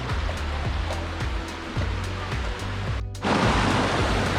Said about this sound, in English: Just all this running water just coming straight down.